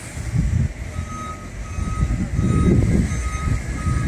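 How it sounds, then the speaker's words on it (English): A truck reverses at a Perdue chicken plant in Concord, NC, its engine rumbling nearby under a faint, steady tonal backup beep, with no talk. "Wait for this truck."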